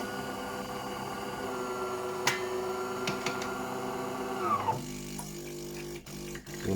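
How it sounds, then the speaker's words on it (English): A De'Longhi ECAM 290 coffee machine running a rinse cycle after being powered back on, giving a steady mechanical hum with faint clicks, then a shift to quieter gurgling and ticks near the end. "The machine's just doing a rinse"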